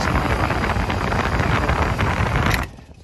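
An air conditioner condenser fan motor runs steadily and pushes a loud, broad rush of air, then stops abruptly near the end, leaving quiet behind.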